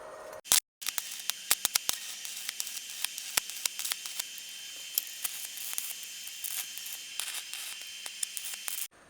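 Arc welding fixes a galvanized iron pipe stand onto a homemade coconut husk peeler, giving a steady crackling hiss broken by sharp pops and brief dropouts, close and continuous for several seconds.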